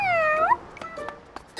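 A cartoon cat gives one clear, drawn-out meow with a rising tail, close and prominent, followed by a few faint clicks and soft sounds.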